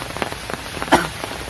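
Rain falls outdoors in a soft, steady patter of drops for a brief moment, with a short faint tonal blip partway through.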